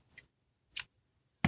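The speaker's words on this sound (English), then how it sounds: "And now I'm going to cut some twine" Scissors snipping twine: three crisp, close cuts spaced apart, the last one louder and fuller, with silence between.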